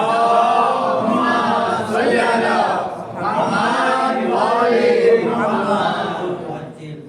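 A gathering of mourners at a majlis in honour of Zainab raises a loud, sustained collective chant of the salawat slogan, many voices rising and falling in steady waves together.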